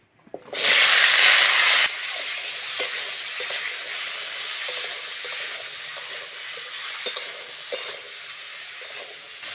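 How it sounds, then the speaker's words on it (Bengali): Cut, washed potatoes hit hot oil with a sudden loud sizzle that eases into a steady softer frying hiss, broken by occasional clinks and stirring sounds, with no talking. "প্রথমেই দেব তেল কেটে ধুয়ে রাখা আলুগুলো দিয়ে দেবো"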